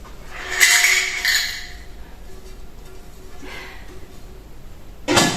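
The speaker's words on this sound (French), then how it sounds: "Une autre poêle." A frying pan or wok is lifted out of its packaging and handled, giving light metallic clinks and rustling in a few bursts, with quieter stretches between and a sharper knock at the end.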